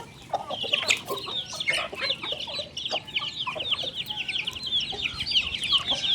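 Several hens cluck and chatter continuously nearby, their busy overlapping calls forming a steady, lively backdrop.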